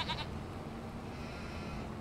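Goats bleat in the Farming Simulator 25 video game, a short nasal bleat near the start set over a steady low farmyard ambience that continues throughout.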